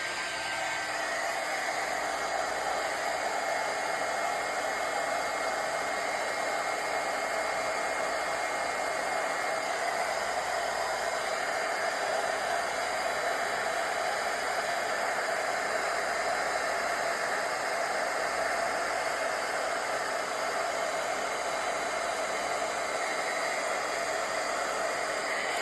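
Steady hot air blasting over a wood and resin turtle clock from a heat gun or dryer, a continuous loud broadband rushing hiss that holds unbroken throughout with no talking.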